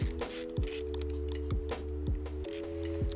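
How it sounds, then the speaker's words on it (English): Small battery screws being driven back into an HP 14-db0043wm laptop by hand, giving repeated faint mechanical clicks and ratcheting ticks at a steady, close-up pace. "4 screws holding the battery in. Just go ahead and put those back in."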